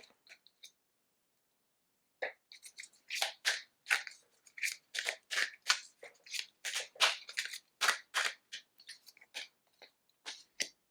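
Tarot and angel spirit cards being shuffled and pulled, with a burst of crisp, rapid card riffles and snaps close up that follows a short quiet gap and a few light taps.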